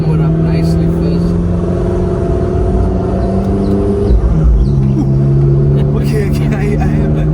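A McLaren 650S sports car engine idles steadily as it warms up, a constant low drone with a slight shift in pitch partway through, and someone talks over it.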